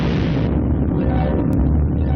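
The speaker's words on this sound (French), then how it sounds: "Le Dr Lang et Billy ont simplement été envoyés dans le décor suite à l'explosion, mais sont sains et saufs." A car explodes in the 1941 Captain Marvel film serial, a dense, loud, rumbling roar that fills the short clip without letup and has no talking over it.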